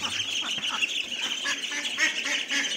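Domestic ducks quack in a farmyard in the morning at feeding time, a busy flock calling at a middle distance under a person's talk.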